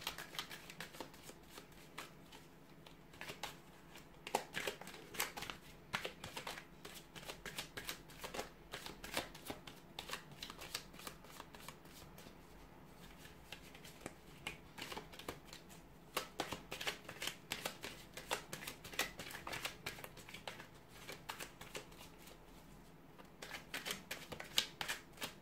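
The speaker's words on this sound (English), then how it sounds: "give the cards a shuffle" Tarot cards are shuffled continuously in rapid riffling bursts, crisp and close, with no voices.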